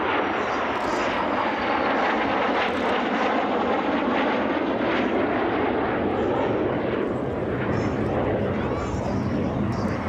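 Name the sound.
aircraft flying overhead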